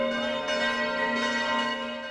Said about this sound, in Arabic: في البداية كان الصوت لجرس واحد.